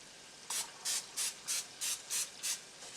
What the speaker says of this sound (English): give it another spray of pan